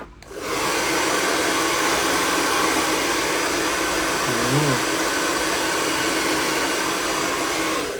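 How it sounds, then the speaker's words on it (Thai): A hair dryer blows steadily and loudly at close range, drying hair before work, a continuous broadband whoosh that holds for the whole stretch with only a brief faint tonal wobble midway. "ต้องเป่าผมให้แห้งก่อนนนี้ทำงานครับ"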